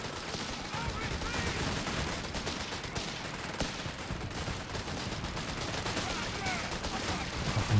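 Rapid autocannon bursts from an 8-rad armored car in Company of Heroes 3 crackle inside a dense, continuous wash of distant battle gunfire and explosions, steady and moderately loud throughout.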